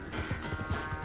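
A horse gallops at speed in Red Dead Redemption 2, quick rhythmic hoofbeats drumming in a fast steady pattern, close and moderately loud.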